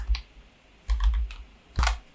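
A few quick clusters of keystrokes on a computer keyboard as a month name is entered, three short bursts of close, crisp clacks separated by brief pauses.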